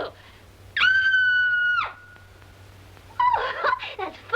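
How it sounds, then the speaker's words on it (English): A woman in a 1941 comedy film lets out a loud, sustained high-pitched scream for about a second, cutting off abruptly, followed after a pause by a shorter burst of excited vocal sound over a low steady hum. "I'm so nervous I could scream. In fact, I think I will."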